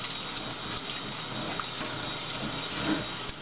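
Water from a tap runs steadily into a sink for a final rinse. The flow is close, continuous and unbroken, with no voices.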